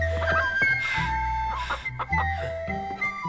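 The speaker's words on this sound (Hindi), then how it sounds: "युनगोंगजी, मैं पहाड़ों पर इस मुर्गे को पकड़ने गया था।" A rooster clucks amid a busy soundtrack of music and effects in a Chinese action film scene, with short clucking calls repeating over a steady low background.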